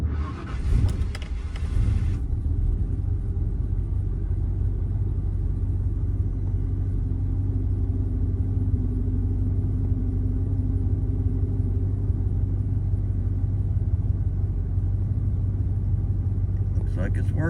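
A 1967 Ford Falcon with a 302 V8 during a morning start in warm weather: a brief cranking burst, then the engine catches and holds a steady, loud, low rumbling idle with no talk over it.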